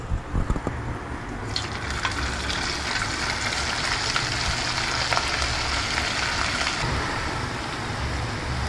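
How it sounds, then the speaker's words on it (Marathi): Bitter gourd (karela) slices frying in a pan during home festive cooking, a continuous loud crackling sizzle that rises after a brief start and holds steady throughout. "आता नेक्स्ट कारत फोडी तळता असं"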